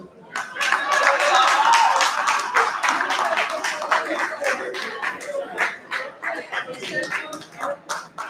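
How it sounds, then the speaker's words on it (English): An audience at a research review meeting applauds after a presentation. Clapping builds loudly and then thins into scattered individual claps, with a voice faintly present early on. "Round of applause for seed technology"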